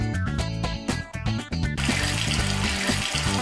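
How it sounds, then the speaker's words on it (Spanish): Water runs steadily from a tap for handwashing in a children's hospital video game, a continuous rushing splash that starts partway through, with a looping musical backing beneath. "Enciende el grifo para lavarse las manos."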